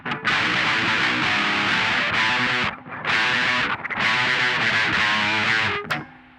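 Heavily distorted chords from a Schecter C-7 FR SLS Elite electric guitar on its bridge pickup, loud sustained strums in two long bursts with a short break between, ending with a brief fade.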